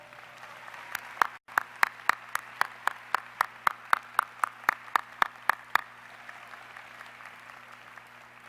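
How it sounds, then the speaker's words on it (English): Sparse clapping at a college of education commencement ceremony, roughly a dozen evenly spaced sharp claps from a few hands over steady room hum, stopping partway and leaving a quiet hall. "Can we please give Dr. Joy Eisen a round of applause?"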